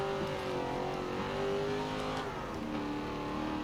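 Engine of a car drifting in the Forza Motorsport 7 racing game, a steady loud high revving drone with shifting pitch that holds throughout, with no talk over it.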